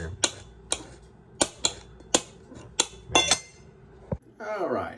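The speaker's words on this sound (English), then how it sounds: "So just basically just kind of slicing the onion like this." A knife slicing through an onion on a board, heard as a series of sharp, close chopping knocks at an uneven pace, followed at the end by a brief voice.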